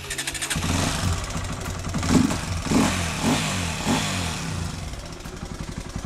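A motorcycle starts and revs as it comes up, a loud, close mid-pitched engine note that swells in a few throttle surges before settling toward an idle, with no voices over it.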